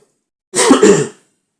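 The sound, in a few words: cough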